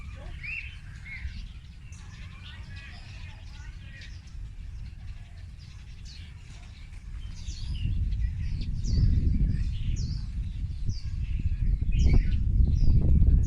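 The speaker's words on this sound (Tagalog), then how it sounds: "Naririnig niyo yung mga tunog ng ibon guys." Scattered bird chirps and tweets ring out over a low rumbling background that grows louder toward the end.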